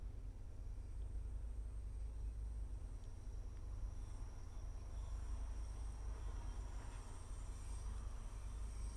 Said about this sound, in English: Clearly the screeching of another train coming up now, presumably on the other platform